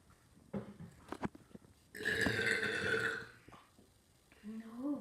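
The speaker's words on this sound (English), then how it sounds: "You gonna burp?" After a can of Coke is chugged, one loud, drawn-out burp lasts about a second and a half, preceded by faint gulping noises and followed by a brief voice.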